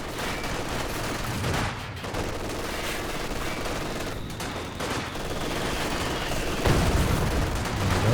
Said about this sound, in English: Big old heavy mortar round in.